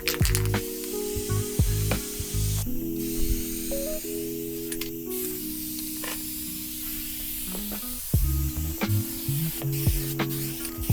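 Aerosol spray paint can used while repairing a wrecked truck hood, giving several close, loud hissing bursts with short pauses and faint clicks between sprays.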